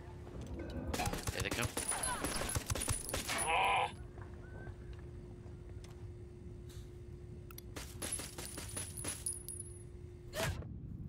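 Sniper gunfire in Ghost Recon Wildlands, a flurry of sharp cracking shots and impacts early on, then a steady tone with a few isolated distant shots, under voices talking.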